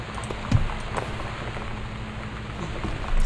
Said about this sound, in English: I actually love the sound of the rain,